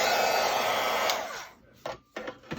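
Hair dryer blowing on a paper art journal page, a loud close whooshing roar for over a second, then cutting off and giving way to a few brief bumps and handling noises.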